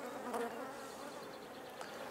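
Honey bees buzz around an open hive during honey sampling, a steady, faint, close swarm drone with small swells and no voices.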